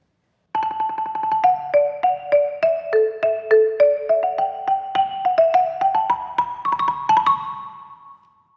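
Two-mallet marimba playing the opening line of Handel's Violin Sonata in D Major Allegro, a close, clear run of struck wooden bar notes moving stepwise with a ringing trill near the end, played alone and decaying at the close.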